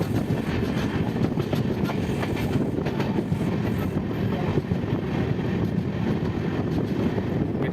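Loud, continuous rumble of a train rolling along rails close by near Rameswaram railway station, with a dense rattling clatter of wheels that holds steady throughout.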